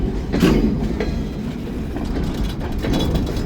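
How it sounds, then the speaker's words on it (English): Freight train boxcars rolling past on the rails, a steady loud rumble with faint clickety-clack from the wheels and no talk. "Where are these boxcars going, eh? Got all these boxcars."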